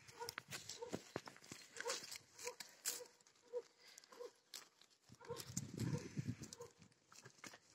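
Young goats play on a grazing pasture, with scattered hoof taps and scuffles followed by a louder rustling burst of movement near the end, at moderate volume and with no talking.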